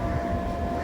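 A train passes in a driving video game, heard as a steady, moderately loud rumble with a faint tonal whine running through the short moment.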